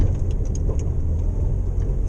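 A Morris Minor car engine with failing points runs louder than normal while driving, a steady low mechanical drone with faint ticking and rattles and no talk.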